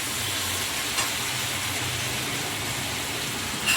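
Rava-coated pomfret sizzling in a pan, a steady rain-like hiss of frying oil at even volume, with a soft clink near the start and a brief louder rustle at the end.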